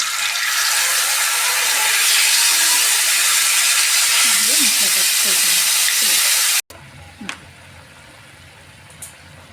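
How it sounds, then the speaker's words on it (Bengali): Cashew and poppy seed paste frying in a pan for a brinjal poppy seed dish, a steady loud sizzle that cuts off abruptly, followed by quieter clinks and faint stirring. "কাজু পোস্ত বাটাটা দিয়ে দিচ્ছি"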